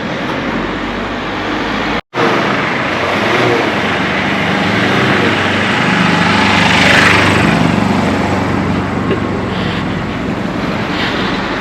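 Along a coastal walking route, a passing road vehicle brings a loud engine drone and tyre rush that swells toward the middle and stays steady. There is one brief dropout near the start and no talking.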